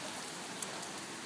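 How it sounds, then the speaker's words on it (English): Heavy rain falls outdoors as a dense, steady hiss of drops on the ground, with no talking, and stays even throughout. "it's raining pretty hard"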